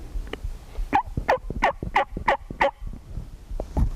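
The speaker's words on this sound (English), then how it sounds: "You got him to gobble." A wild turkey gobbles repeatedly in a quick run of about six loud, rattling calls close by, answering a hunter's mouth call, with a lone call trailing after a short pause.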